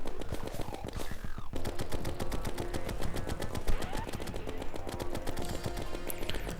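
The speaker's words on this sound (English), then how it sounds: "And I keep running and gunning with my mini shark" Rapid, evenly spaced bursts from the Minishark machine gun in Terraria, firing against King Slime in a pre-hardmode fight; a steady rattling stream of shots that runs throughout over game music.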